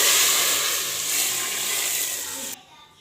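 Loud, bright sizzling hiss of hot oil tempering (tadka) poured into cooked lentils, steady for a few seconds before dropping abruptly to a quieter crackle.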